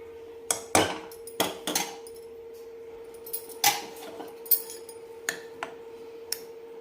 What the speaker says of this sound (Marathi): तर एका ताटामध्ये काढून दाखवते